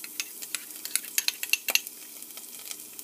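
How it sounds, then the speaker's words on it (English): Garlic cooking in oil in a saucepan over medium-low heat, with a soft sizzle under a string of light, close clicks and taps from stirring, no talking. "you're just going to add your garlic"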